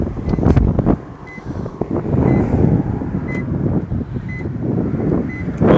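A Renault Megane 2.0 cabriolet beeps at steady intervals after being locked as its alarm sets, six short, thin tones heard outdoors over loud wind buffeting the microphone.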